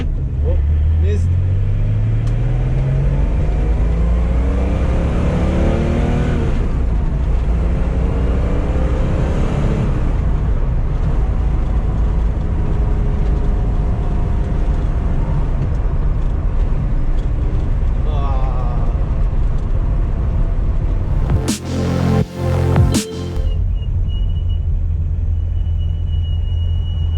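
A Porsche 911 project car drives on the road with a constant loud engine rumble, its pitch rising and falling through the revs, close inside the car. A few sharp knocks come near the end, and a voice can be heard.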